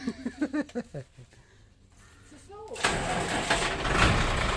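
A car engine cranks and catches after some talking, then settles into a loud, steady running rumble close by.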